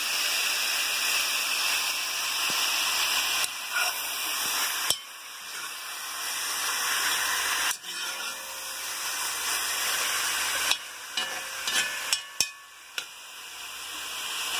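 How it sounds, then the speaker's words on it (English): Beef chunks brown in a hot pan with a steady, loud, close sizzle and hiss, broken now and then by clinks and stirring scrapes. "Takes several minutes to get this beef to brown off."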